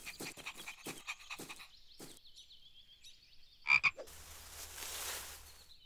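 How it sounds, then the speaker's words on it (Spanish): A few short croaks sound among soft rustling and light thumps, followed by a hissing wash of noise near the end. "Me pregunto a dónde irá esa rana."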